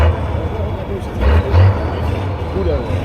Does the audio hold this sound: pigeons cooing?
no